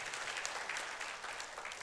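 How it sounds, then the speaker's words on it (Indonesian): A church congregation claps together in a sustained, dense burst of applause during a sermon, steady and fairly close, with no other sounds over it. "Kita berikan tepuk tangan buat Tuhan Yesus yang baik."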